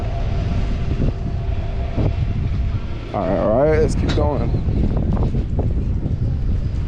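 Steady wind rushes past the microphone on a San Francisco street near Fisherman's Wharf, a constant low roar under a brief spoken remark.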